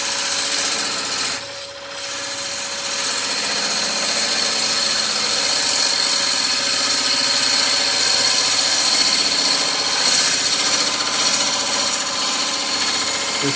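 A wood lathe spins a burr bowl while the turning tool rubs its bevel on the wood, giving a continuous loud, close, broadband scraping hiss with one brief dip before steadying again.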